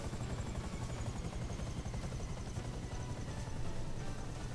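A helicopter in the video game GTA 5 drones steadily and loudly throughout, its rotor thump and engine roar continuous with no voices over it.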